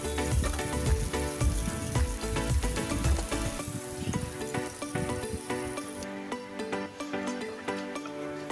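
Chopped garlic and dried chilies fry in hot oil for jute leaf greens (pat shak), a steady close crackling sizzle that runs throughout, with no talk over it.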